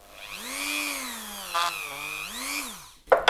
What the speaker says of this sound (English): I've just got the Dremel with a clean buffing pad on